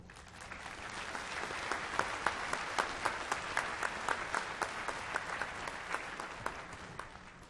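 Sustained applause from a commencement audience at a college ceremony, welcoming a speaker to the stage; steady dense clapping with sharper individual claps standing out, filling the hall without voices.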